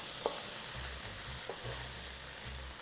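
Onions softening in a frying pan for a South African bobotie, a steady close sizzle with a few scraping stirs of the spoon spaced through it, no voices.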